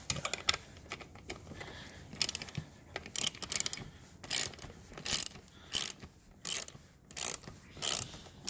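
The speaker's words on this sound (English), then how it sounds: "So then we are using a ratchet here. We're going to screw it off." A ratchet clicks steadily while loosening a clamp on the MAF sensor of an Astra 1.7 CDTi car, close and crisp, with repeated bursts of rapid pawl ticking between short pauses.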